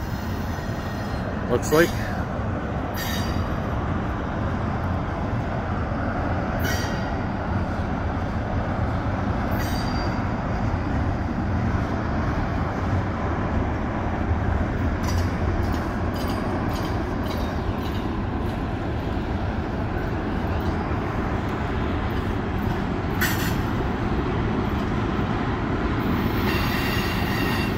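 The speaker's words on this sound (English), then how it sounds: "There's nothing like the sound of trains." A CN freight train rolls west through the Pointe-Saint-Charles railyard with a steady, heavy rumble and clattering wheels, broken by occasional brief squeals, while a voice speaks faintly nearby.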